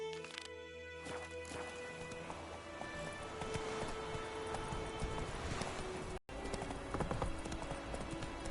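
Hooves of Roach, Geralt's horse in The Witcher 3, clip-clop in a quick, steady galloping rhythm, moderately close, under a bed of game ambience with faint background tones.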